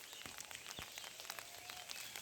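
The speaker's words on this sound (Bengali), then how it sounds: "এখনও গুড়ে গুড়ে বৃষ্টি হচ্ছে, সময় সময় জোরে বৃষ্টি হচ্ছে" Steady rain falls over village fields, a faint, even patter scattered with soft droplet ticks and no voices.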